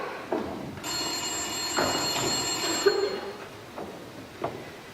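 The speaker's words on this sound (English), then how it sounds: "Mary, get the phone." An old-fashioned telephone bell rings in a bright sustained burst of about two seconds, close and loud, with soft room sounds and footsteps around it in a film scene.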